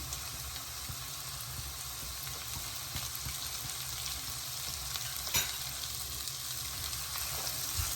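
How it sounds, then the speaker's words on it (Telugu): Carrot and sweet corn sizzle steadily in a hot pan while a spatula stirs them, giving a continuous close crackling hiss with occasional scraping knocks and no talking. "ఇప్పుడైతే క్యారెట్ అండ్ స్వీట్ కార్న్ కూడా యాడ్ చేసేస్తున్నాను."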